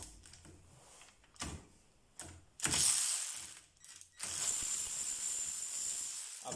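Sealey CP1202 3/8-inch battery ratchet loosening a bolt torqued to 30 Nm: short whirring and clicking bursts, then a longer steady buzzing run, close up.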